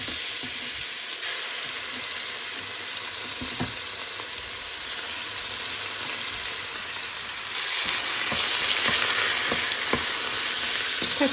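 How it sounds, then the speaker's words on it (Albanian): Meat sizzling steadily in heated oil in a pot, a loud, continuous hiss with occasional stirring clinks that grows slightly stronger toward the end, close up and without voices. "me njerë e qesim mishin të kavardisat tek vaj i nxehur"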